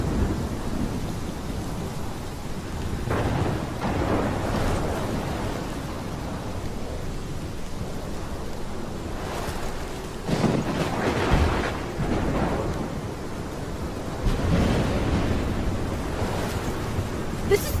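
Thunderstorm with heavy rain in Life Is Strange, a steady roar of downpour broken by several deep rolling thunder rumbles, loud and close, with no one speaking.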